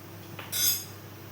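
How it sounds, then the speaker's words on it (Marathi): A metal lid set onto a pot of bottle gourd curry on the stove gives one bright, brief clink, close and fairly soft against quiet kitchen background. "इथे झाकण ठेवते आणि कमी गॅस करते"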